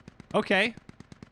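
Rapid automatic gunfire from the military video game Squad pops in a steady, evenly spaced burst, fairly light and distant, briefly covered by someone speaking in the middle.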